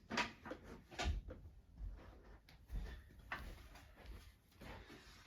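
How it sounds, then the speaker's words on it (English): A refractor door is fitted onto a Westinghouse OV-25 Silverliner mercury vapor street light, giving a series of close clunks, clicks and scraping knocks at an irregular rhythm, with no talk. "situate that there, and put the refractor door on"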